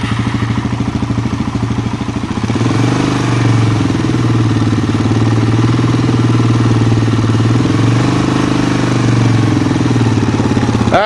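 A quad bike engine runs steadily on a farm, its loud close chugging idle rising slightly in pitch and then holding a throbbing drone throughout, with no talk.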